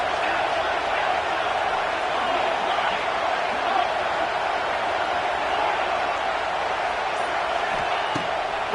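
A packed stadium crowd at a Miami versus Florida State rivalry game in the NCAA '26 football video game roars as a steady, broad wash of noise, loud and unbroken throughout.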